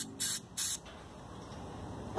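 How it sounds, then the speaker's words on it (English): Carburetor cleaner sprayed onto a Ruckus scooter carb in two short, sharp hissing bursts near the start, followed by quiet. "I'm gonna just spray this down a bit"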